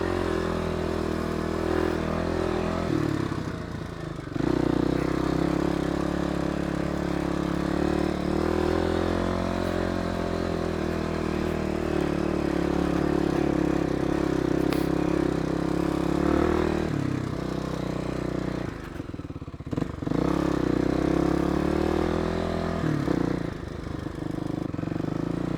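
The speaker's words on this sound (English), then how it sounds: "I love these gearing in in this motorcycle" A motorcycle engine runs steadily while riding toward a scenic overlook, its low drone rising and dipping through gear changes with brief drops in power, loud and close with wind noise and no talking.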